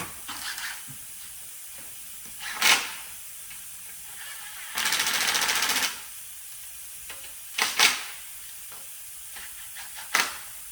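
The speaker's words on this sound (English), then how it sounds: "impact gun." An impact gun tightens bolts while motor brackets go onto a K24A2 engine build: one dense, steady rattling burst of about a second, with a few brief, sharp bursts before and after in a fairly quiet room.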